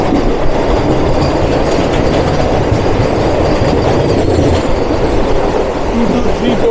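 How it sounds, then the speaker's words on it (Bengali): A train runs fast on rails while overtaking a Vande Bharat express, with a loud continuous roar and rattling wheel clatter heard from inside the carriage, and faint voices underneath. "আমাদের ট্রেন বন্দে ভারতকে ওভারটেক করছে।"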